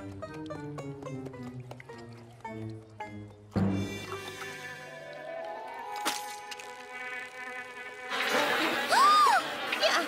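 Cartoon bees buzz in a My Little Pony episode. Plucked music and chimes come first, then a loud, dense buzzing swarm swells over the last couple of seconds.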